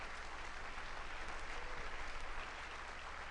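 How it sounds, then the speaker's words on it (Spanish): A church congregation applauds during a Sunday service, a continuous, fairly faint patter of many hands clapping together, holding steady before easing slightly near the end, with no voices on top. "Un aplauso al Rey"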